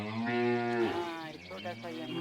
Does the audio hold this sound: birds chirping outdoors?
no